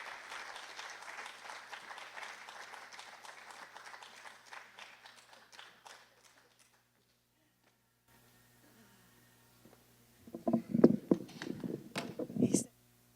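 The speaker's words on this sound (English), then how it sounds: "we say thank you with a round of applause" Audience applause at the launch of a memorial lecture series, clapping steadily for about six seconds and then fading out; after a quiet gap, separate bursts of clapping and crowd noise start up again toward the end.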